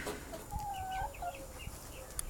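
Hens clucking around a backyard chicken coop, several short rising and falling calls one after another, fairly close but quiet, with soft rustling and scratching underneath.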